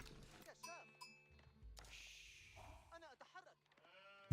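Sheep bleats from a video game, several short wavering calls scattered through the clip over quiet in-game ambience, ending with a sudden low thump.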